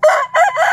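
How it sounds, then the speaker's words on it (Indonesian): A seven-month-old young rooster crows close by in a short, strained burst with a brief break, standing alone without talk. "kalau misalkan ayam ini tadi berkokok-kokok"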